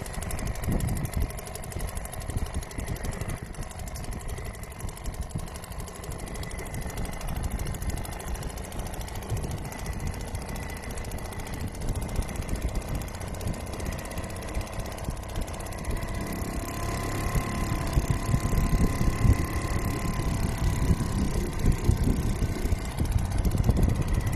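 A Seagull 40 Plus outboard boat engine runs with a rough, throbbing rattle, holding steady and then revving louder toward the end.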